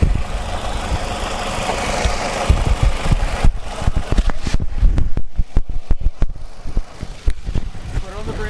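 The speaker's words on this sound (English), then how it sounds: "Put on the brake, give it gas until it starts to miss." Nissan Altima engine held against the brakes under throttle, a loud close rumble that turns choppy and uneven with stumbling misfire pulses in the second half, with a voice speaking briefly.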